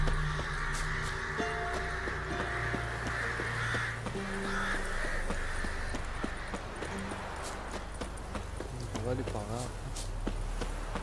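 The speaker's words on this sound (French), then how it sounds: "Il y a une masse de corbeaux ici." Crows caw in The Witcher 3 video game as scattered harsh calls over a dense game soundscape of hoofbeats and footsteps, with someone talking throughout.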